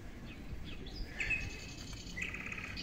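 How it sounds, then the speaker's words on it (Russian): Birdsong played through loudspeakers on a seaside promenade, faint chirps and short tweets scattered over quiet outdoor background noise. "Птички поют, это динамики работают."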